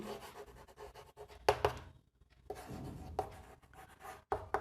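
Chalk or a marker writing on a board during a Bengali chemistry lesson on SN1 reactions: a run of close, scratchy strokes with short pauses between words, alone without talk.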